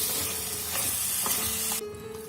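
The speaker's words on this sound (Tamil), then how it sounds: "இறால் வதங்கி சுருண்டுடுச்சு பாருங்கள்" Prawns sautéing in a pan for a spicy village-style prawn and okra curry, with a steady close sizzle and a few stirring scrapes. The sound cuts off sharply near the end.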